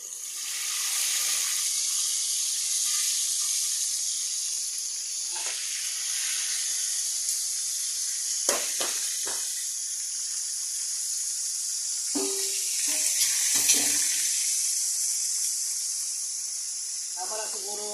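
Fish frying in a home kitchen pan, a steady broad hiss and sizzle running throughout with a few brief clatters and knocks of cookware partway through.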